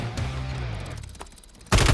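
Rapid automatic gunfire in Call of Duty Modern Warfare III ranked multiplayer, a sustained burst of shots that thins out, then a loud, dense volley erupts close by at the end.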